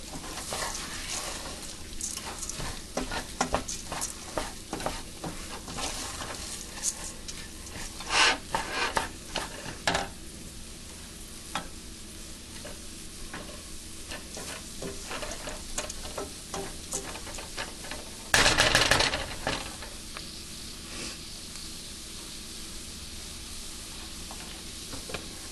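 Orange-scented fruited rice pilaf is stirred in a pan, making a faint, steady sizzle with repeated scraping and rubbing strokes and a brief louder clatter near the end.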